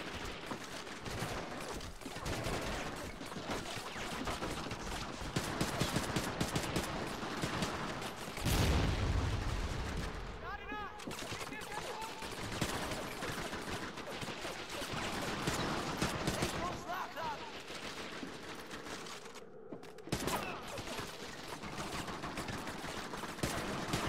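Sustained gunfire and explosions in the video game Medal of Honor: European Assault, with dense overlapping shots, occasional heavy booms and tank fire, loud and continuous throughout a farmhouse battle.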